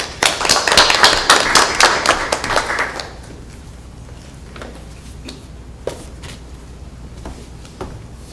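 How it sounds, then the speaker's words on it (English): A room at a school board meeting gives a brief round of applause, with lively clapping for about three seconds before it quickly dies away into quiet room tone and a few faint knocks. "So give them another round of applause."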